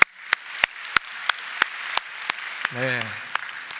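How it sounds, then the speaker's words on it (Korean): Church congregation clapping at a worship service, about eleven distinct sharp claps in a steady beat over a low hubbub, with a brief spoken response partway through. "우리 박수 한 번만 주시겠어요?"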